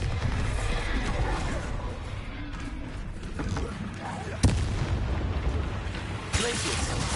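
Bombarda explosion spell in the Hogwarts Legacy video game: a sudden sharp blast that punches out of a dense, rumbling battle din, followed by a smaller burst moments later, with a voice calling out during the fighting.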